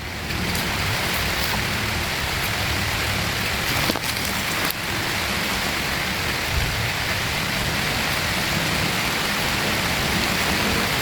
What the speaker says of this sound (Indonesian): Hujan telah tiba.